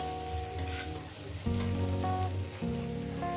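Vegetables and tiny kachki fish stir-fried for a dry chorchori in a pan over a low flame, giving a steady soft sizzle with occasional stirring under continuous background music.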